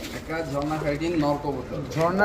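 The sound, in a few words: pigeon cooing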